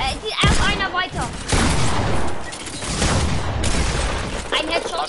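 Gunfire from a Fortnite match on PS4 Pro, a headshot ringing out as a few sharp cracks amid dense game noise, with players talking over it.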